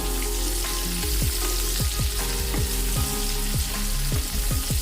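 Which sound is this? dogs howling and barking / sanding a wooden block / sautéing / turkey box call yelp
sautéing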